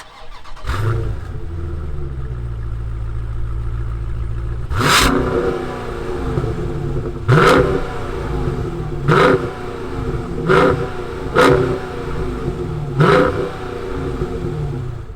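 A 2020 Dodge Challenger Scat Pack's engine cranks and catches, settles into a deep idle, then roars through about six sharp, loud revs close by.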